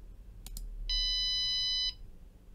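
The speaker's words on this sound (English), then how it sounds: "So if I click run now, you'll hear just a beep really quick." A small electronic buzzer from a Pi Hut maker advent calendar kit gives one steady, shrill beep lasting about a second, preceded by a couple of quiet clicks, in an otherwise quiet room.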